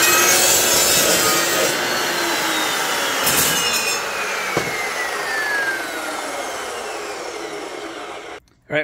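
A saw recuts the end of a trailer tailgate bracket in a steady rasping run of about eight seconds, then winds down and stops abruptly.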